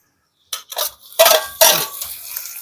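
Chopped tomatoes tipped into hot oil in a pan for a village-style chicken curry cooked over a wood stove, a loud clatter and scrape of the pan with a brief sizzle, no talk.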